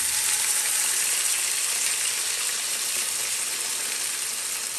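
Barberries and pistachios sautéing in melted sugar and oil in a pan over low heat, a close, steady, dense sizzle that holds evenly throughout with no voices.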